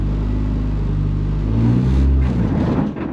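A Renault Clio Cup race car with a sequential gearbox pulls away, its engine droning low and then rising in a rev surge near the middle before easing off, close and loud.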